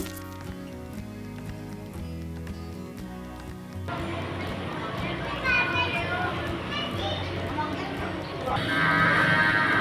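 Limousin cattle bought as sacrificial animals moo while being fed, the lowing mixed into a steady crowd murmur with children's voices and someone speaking over it.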